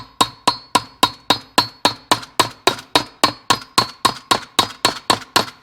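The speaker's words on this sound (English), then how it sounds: "I'm going to tap it on it with my plastic hammer a little bit" A plastic hammer taps repeatedly on a shim during a Yamaha AT-1 MX engine build, giving a steady run of about twenty sharp, ringing metallic clicks at an even rhythm, close and clear.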